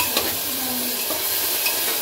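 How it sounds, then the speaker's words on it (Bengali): Onion frying in a pan for a Bengali mutton curry, salted and sugared to soften: a steady close sizzle with a couple of soft stirring scrapes, no voices. "পেঁয়াজটাও প্রায় আমার ভাজা ভাজা হয়ে এসছে, আর একটু ভাজা হয়ে গেলে মশলা দেবো।"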